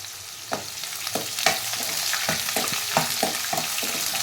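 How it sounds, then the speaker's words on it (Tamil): Onions frying in hot oil for eggplant poriyal, a steady close sizzle broken by rhythmic scraping strokes as they are stirred in the pan. "வெங்காயம் நல்லா வதக்கலாம்."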